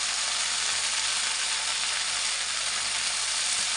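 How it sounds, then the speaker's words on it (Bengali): Water spinach (kolmi shak) frying in a kadai over chopped green chilli, onion and garlic, a dense, steady hiss of sizzling oil that holds loud and even throughout with no talk. "এখন আমি কলমি শাকটা দিয়ে দেবো। এক কড়াই হয়ে গেছে কলমি শাক।"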